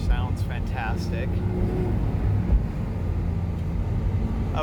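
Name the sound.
Porsche 997 Gemballa Avalanche engine while driving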